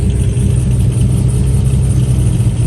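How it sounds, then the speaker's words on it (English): Chevrolet Camaro engine at a car meet just after a cold start, a loud, steady low rumble with a continuous idle drone throughout and no voices. "Gotta get a cold start on both of them."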